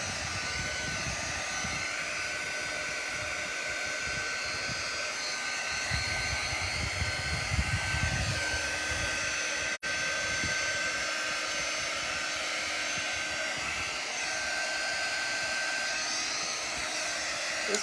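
Handheld dryer blowing steadily on paste over a reusable surface, a continuous close whirring hum with a louder low-pitched stretch midway and a brief interruption near the middle.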